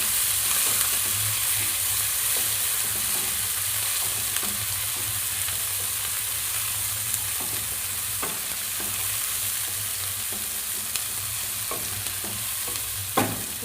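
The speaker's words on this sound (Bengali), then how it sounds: "এবার নাড়াচাড়া করছি।" Chilli chicken with chopped tomato and coriander leaves being stirred in a frying pan: a steady, close sizzle runs throughout, with irregular scrapes and clicks of the spoon, louder near the end, and no talking.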